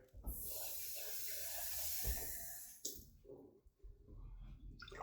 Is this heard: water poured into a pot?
yes